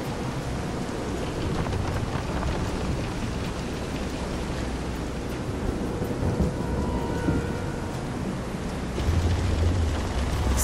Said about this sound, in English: This is some storm.